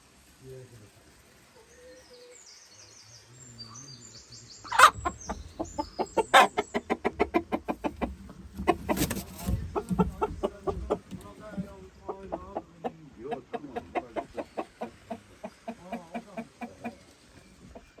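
Chickens cluck in quick repeated bursts nearby, growing busier after a quiet start, with a person talking and laughing among them.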